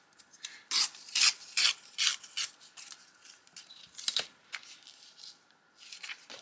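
Paper scraps trimmed along the edge during DIY journaling, heard as a quiet series of short rasping cuts in irregular bursts, close and alone without talk.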